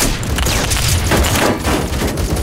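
Shotgun fire in the video game Phantom Forces, a loud dense burst of booming blasts and thuds in quick succession, filling the whole stretch with no talking.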